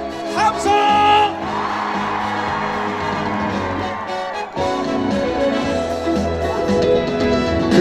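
Festival crowd cheering and whooping at an outdoor concert at Ilsan Lake Park, a sustained roar of voices mixed under loud live music and amplified singing.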